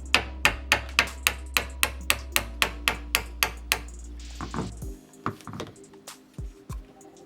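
A hammer drives the rack out of an airsoft gearbox piston in a steady run of about fifteen sharp, evenly spaced metallic taps, followed by quieter knocks and handling noises.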